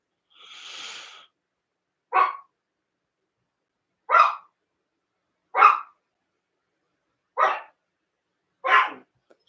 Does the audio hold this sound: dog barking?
yes